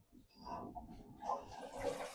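A mobile home's water line refilling after the supply is turned back on following a repair, a steady rushing hiss of water running into plumbing that builds over a couple of seconds, fairly faint and with no talk.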